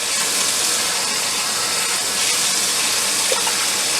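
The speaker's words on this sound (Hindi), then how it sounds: "4 ग्लास पानी के शामिल कर दूंगी।" Water poured from a glass into a cooking pot of meat for aloo gosht, a steady close splashing rush with a brief hiss, continuous and fairly loud throughout.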